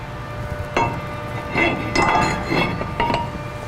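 A new brake rotor and bolt are fitted onto the front hub of a 2007-2014 GMC Yukon, giving a few short metallic clinks and taps, close by and spaced over a few seconds.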